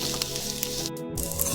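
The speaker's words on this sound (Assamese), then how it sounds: "ধুনীয়াকৈ ভাজি লওঁ বহুত ধুনীয়া গোন্ধ আহিছে" Pork frying in a pan, a close, steady sizzle with crackling hiss and brief spattering pops, heard alone without talk.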